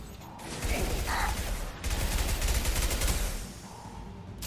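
Video game gunfire in a Mass Effect 2 firefight: sustained rapid bursts of weapon fire with mechanical clatter, loud and dense, broken by a brief pause midway, with no voices.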